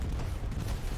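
Bombing run explosion in the WWII shooter Hell Let Loose: a single heavy, rumbling blast that booms low and loud throughout one second, with no voices over it.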